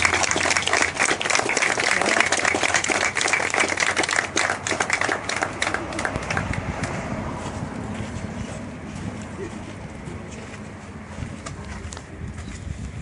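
Audience applause fills a team awards ceremony for a survival trial, dense clapping loud at first, then thinning and fading to scattered claps toward the end.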